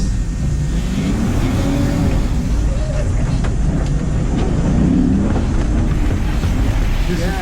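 An Aston Martin is driven hard around a stunt track from the Bond film No Time to Die, its engine droning steadily from inside the car amid wind noise and talk.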